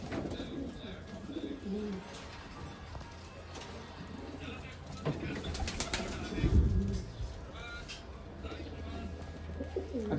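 Old line racing pigeons coo softly in a low, repeating murmur, with occasional wing flutters and bird chatter around them, while people talk nearby.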